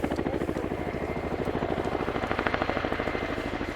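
Royal Air Force Chinook HC.6 twin-rotor helicopter in a flying display at an air show, a loud, close, steady rhythmic rotor chop over deep engine roar and turbine whine.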